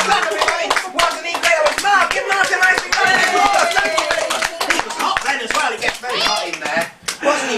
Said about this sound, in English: Give him an angry round of applause.